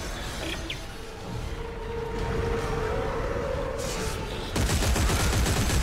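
In Dead Space 3, gunfire aimed at a yellow fuse rattles over a droning machine hum and a thin whine, then bursts into a louder, denser volley near the end, with no voices.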